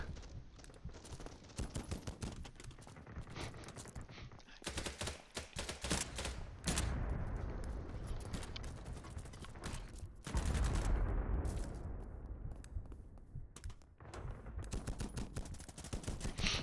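Video game gunfire in a military match, bursts of rapid automatic shots and fusillades cracking loud and close, stopping and restarting over several seconds with short quieter gaps between volleys.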